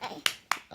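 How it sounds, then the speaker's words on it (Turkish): Three sharp hand claps spaced about a quarter second apart, close and fairly loud, with a child's background babble before them at home. "Alkış."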